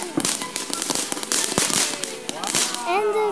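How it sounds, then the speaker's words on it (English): Rapid bursts of Fourth of July firework crackles and pops, loud and close, with excited voices chattering over the explosions. "Fireworks, yes!"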